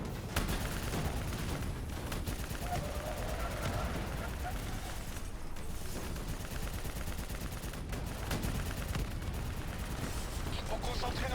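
Gunfire against robots in Call of Duty: Black Ops III, dense continuous automatic fire and blasts roaring loudly throughout, with voices talking under the shooting.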